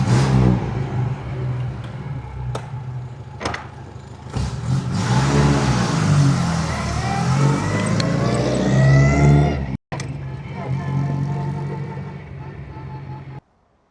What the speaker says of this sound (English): let's hear the Aston start up and drive away